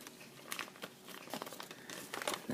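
Paper being folded for an origami burger box crinkles and crackles in close, steady bursts, with a louder crumpling rustle at the end and no one speaking.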